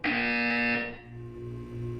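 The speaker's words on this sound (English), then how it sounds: "When you hear the buzzer, look up at the ceiling." A loud electronic buzzer from the video game Portal 2 blares a harsh, steady tone for just under a second, then cuts off and leaves a lower mechanical hum droning on.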